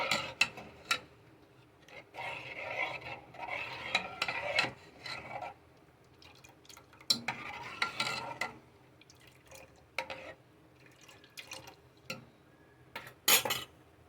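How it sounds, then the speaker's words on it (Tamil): Metal spoon stirs urad dal porridge in a pot, scraping and clinking in irregular bursts with quiet pauses between them, close and moderately loud, with no talk. "கலக்கிட்டே இருக்கணும், இல்லைன்னா கட்டியாயிடும்."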